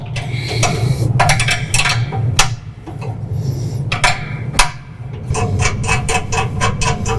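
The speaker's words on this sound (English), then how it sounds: "we are going to loosen our bottom nut here" A wrench loosens the bottom nut on a John Deere Z545R Ztrak mower deck hanger, making close metallic clinks, ratcheting taps and scraping clicks in irregular bursts over a low background hum.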